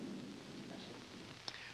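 A low, distant rumble of thunder rolls beneath steady rain, with a brief sharp crack near the end.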